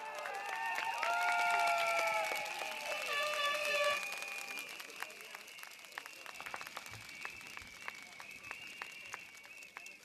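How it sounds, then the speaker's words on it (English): A political rally crowd in Sengkang, at a People's Action Party election rally, bursts into loud applause with whooping cheers that peak early, then settles into steadier, thinning clapping welcoming a local resident to the stage. "Round of applause."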